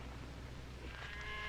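Cattle mooing faintly in a rural ranch setting, a single low drawn-out moo rising near the end over a steady hum of background noise.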